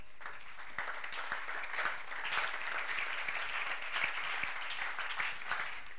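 A church congregation at a French-language service bursts into steady, sustained applause and cheering, a dense wash of many hands clapping that fills the room evenly throughout.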